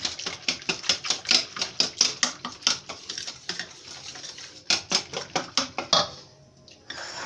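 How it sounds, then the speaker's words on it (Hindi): A spoon mashes yogurt mixed with creamy milk in a bowl, giving a fast series of close, sharp clinks and taps that come in a steady rhythm and pause briefly near the end. "इसको अच्छी तरह से मैश कर लीजिए ताकि मलाई वाला दूध जो है अच्छी तरह से दही के अंदर मिक्स हो जाए।"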